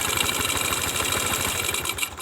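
A Yamaha Jupiter MX motorcycle engine runs close up, a steady, rapid mechanical chatter held at a raised throttle, with the pulses continuing evenly and no voices.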